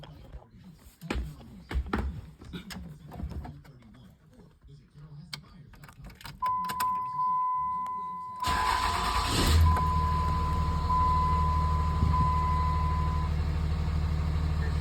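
Clattering and rustling, then a 2005 Dodge Ram Cummins diesel pickup engine cranks and settles into a loud, steady idle with a faint whine running through it, after a fuel pump cover and serpentine belt replacement.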